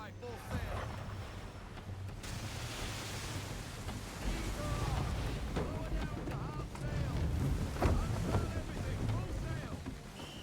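Sailing ship running at full sail in Assassin's Creed 3, with steady wind and water rush and waves breaking against the hull throughout, while voices and game sounds carry on over the top.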